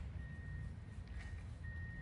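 A truck's reversing alarm beeps steadily while backing a trailer along a tight road, a thin, sustained tone over a constant low engine rumble, fading briefly midway before returning.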